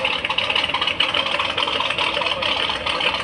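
A running engine sound from a 1966 Pontiac GTO Revell scale model kit, a steady droning idle with a mid-range buzzy hum that holds constant and fairly loud throughout, without talking.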